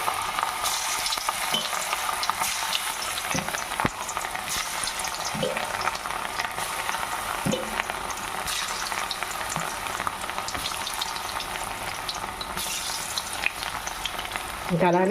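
Cauliflower pieces fry in hot oil for cauliflower biryani, a steady soft sizzle with occasional knocks as pieces are added, while a person talks briefly over it.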